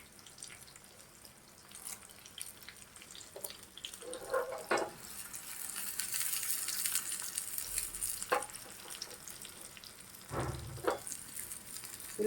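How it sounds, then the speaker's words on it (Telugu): Chopped onion fries in hot tempering oil with curry leaves for a mango dal, a continuous sizzle with occasional sharper crackles and brief stirring scrapes, close and moderately loud, with no talking. "ఇది ఇక్కడ ఉల్లిపాయ తాలింపులో కూడా వేసాను."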